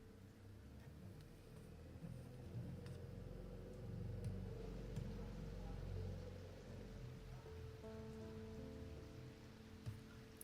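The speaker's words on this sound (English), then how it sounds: "It's raining outside." Steady rain falling outside in the game Strange Antiquities, a soft continuous patter with low rumble, faint and even under quiet piano music.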